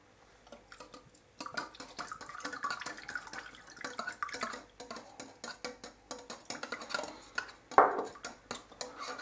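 A spoon stirs grafting wax with 96% alcohol in a pot, giving clinks and scrapes against the metal plus soft dripping ticks. The irregular strokes are close and fairly quiet, with no talking.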